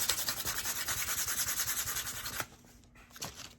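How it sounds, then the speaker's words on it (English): Rapid rhythmic rubbing strokes of fine sandpaper on a Dollar Tree wood cutout, fairly loud and close, stopping abruptly partway, followed by a few faint scrapes. "This is a super light sandpaper, but I really only want a light sanding."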